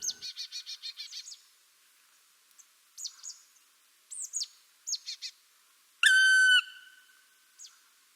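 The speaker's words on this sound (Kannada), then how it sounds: "ಔಲ್, ಗೂಬೆ," Bird calls from an owl, heard as a rapid series of short repeated notes followed by scattered chirps and a single longer, tonal whistle-like cry, fairly clear with no talking.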